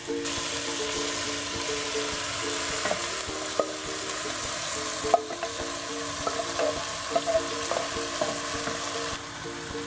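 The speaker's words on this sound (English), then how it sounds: "you're going to add your chopped potatoes. You're going to add 1 can of drained black beans." Chopped potatoes and drained black beans sizzle in a pot for black bean soup, a steady frying hiss broken by scattered stirring clicks and scrapes, close and even throughout with no talk.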